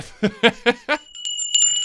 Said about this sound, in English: Tinkly bells, thank you.